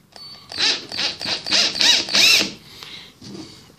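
A drill with adjustable speed, set to drilling mode for making a wooden box, runs in quick pulsing bursts of whining motor noise. It stays close and fairly loud, then falls to softer short sounds at the end.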